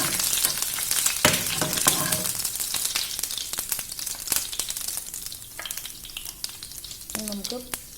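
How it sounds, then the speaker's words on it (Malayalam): Mustard seeds and urad dal sizzle and crackle in hot oil in a pan, a continuous loud frying hiss with sharp pops and a few stirring scrapes. "കടുകൊന്ന് പൊട്ടി വരുമ്പോൾ ഉഴുന്നുപരിപ്പ് ഇട്ട് കൊടുക്കാം."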